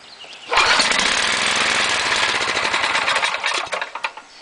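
A small engine is pull-started at half throttle without choke and catches on the first pull, then runs loud and close with a fast, even putter that grows rougher and uneven toward the end.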